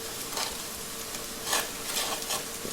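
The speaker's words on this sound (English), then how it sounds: "Give it a big mix" Brown sugar is stirred into a pan of cooked-down onions and crisp bacon over a steady sizzle, with a few scraping strokes of the spoon rising above the continuous frying hiss and no one talking.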